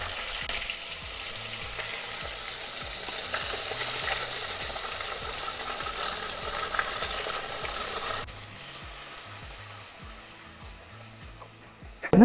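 Crushed onion frying in hot oil with cumin, dried chilli and curry leaves for a Kannur-style chickpea curry, a steady close sizzle with soft stirring scrapes that drops quieter partway through.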